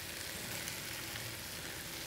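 Carrots, with celery already in, fry in a hot pan for slow-cooked beef ragu, giving a steady close sizzle with a faint crackle and no talk.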